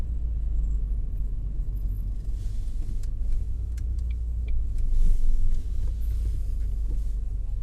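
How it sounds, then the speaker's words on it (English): Low, continuous rumble of road traffic crawling in a jam, engines idling and moving slowly nearby with a brief swell of a passing vehicle midway. "We've got serious traffic issues."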